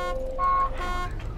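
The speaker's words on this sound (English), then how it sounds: "Are you honking the horn at me?" A car horn in the DayZ video game blares in a steady, continuous tone that holds for the whole moment with slight wavering.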